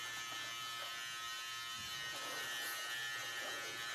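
Electric hair clipper trimming a baby's hair, a steady close buzz running continuously throughout with no talking.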